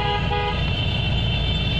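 Traffic passes close by on a road in Bikaner, India, with a loud, sustained car horn blaring over steady engine rumble and road noise throughout.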